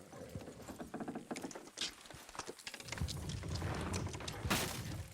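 Horses' hooves clip-clop as they strain to pull a structure down in Red Dead Redemption 2, irregular thuds followed by a heavy low rumble and creaking, fairly faint overall.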